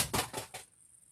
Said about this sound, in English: that was the sound of an 8-track tape being ejected from a 8-track tape player,